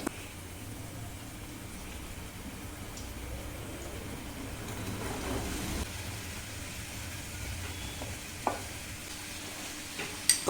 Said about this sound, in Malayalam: അപ്പൊ ഇതൊരു ലൈറ്റ് ബ്രൗൺ കളർ ആകും വരെ വഴറ്റുക.